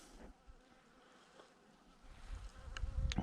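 Honeybees buzzing around beehives outdoors in February, a faint steady drone with individual bees passing close, ending with louder low rumbling near the microphone.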